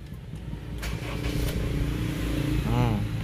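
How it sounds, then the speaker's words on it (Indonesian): A 2007 Honda CR-V 2.0 automatic starts up with a brief cranking whir, then settles into a smooth, steady idle close by, while someone talks over it. "terus sekarang tak coba hidupkan mesinnya"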